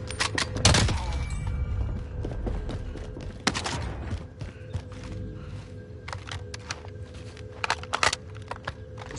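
Gunfire crackles during a video game firefight, a sharp burst near the start and another hit midway, with scattered fainter shots and pops over a steady background rumble.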